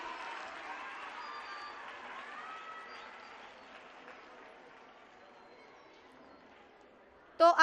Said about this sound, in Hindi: ज़ोरदार तालियों से हमारे आए हुए तमाम मेहमानान का एक बार फिर इस्तकबाल कीजिए।